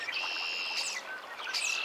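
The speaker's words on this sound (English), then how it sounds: "the red-winged blackbirds that are singing in the aspen grove on the other side of the river" Red-winged blackbirds singing from an aspen grove across a river: bright, buzzy trilled calls, repeated twice with a short gap, carrying clearly in the open air with no voices.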